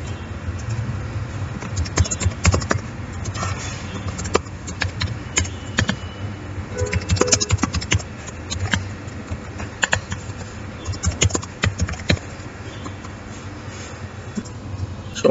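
Typing a C hello world program on a computer keyboard, with irregular bursts of clicky keystrokes, some louder clusters and pauses between, close by and without speech.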